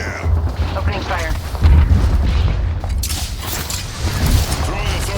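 Gunfire and heavy booming explosions in the battle royale video game Apex Legends, a steady loud barrage of deep rumbling blasts through a ranked match on Kings Canyon, with game voice lines mixed in.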